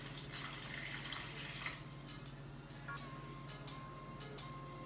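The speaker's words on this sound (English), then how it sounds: "I'm gonna add a half a cup of water inside of our mixture, our fruit mixture" Water is poured into a strawberry and raspberry fruit mixture, a soft continuous splashing trickle at low volume over a steady background hum.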